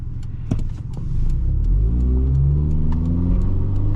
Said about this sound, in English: just add a little bit of throttle and it naturally accelerates